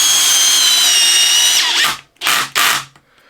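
A cordless drill whines steadily and loudly, then cuts off and gives two short bursts as it drives a screw into OSB at clutch setting 13, with the clutch briefly catching.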